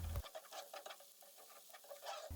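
Red pepper paste being sautéed and stirred in a pan for a potato and bulgur filling for stuffed cabbage rolls, with a quiet sizzle broken by the scrape and patter of a spoon moving through the mixture, and no talk.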